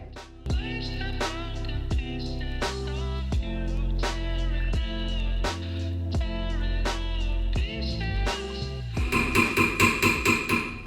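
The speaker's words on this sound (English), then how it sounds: "what we're gonna do now is add some fun hammer texture" Sharp metallic hammer strikes on a metal ring on a mandrel ring out one after another at an uneven pace, each leaving a bright ringing tone, with a quicker burst of taps at the end.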